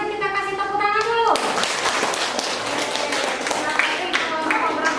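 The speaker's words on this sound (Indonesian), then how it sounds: "sebelumnya kita kasih tepuk tangan dulu" Students in a classroom clap together after a group presentation. The applause bursts in suddenly after a voice, then continues as loud, close, uneven clapping that stays dense to the end.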